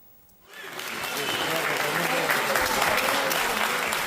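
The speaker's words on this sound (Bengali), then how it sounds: "রীতিমতো করতালি দিয়ে সংবর্ধনা জানানো হচ্ছে দুই আইডিএফ সেনাকে" A crowd at a court applauds two IDF soldiers. After a brief quiet moment, clapping from many hands bursts in and holds as steady, close, dense applause to the end.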